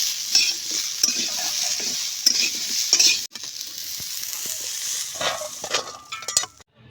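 Cauliflower frying in oil in a pan gives a close, steady sizzle, broken by a few louder bursts and spoon-on-pan scrapes and clinks as the pieces are stirred.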